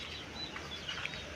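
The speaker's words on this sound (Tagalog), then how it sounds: "Yan po ang aking inahin." A mother hen clucking, faint and somewhat distant, a few soft clucks over a steady outdoor hiss.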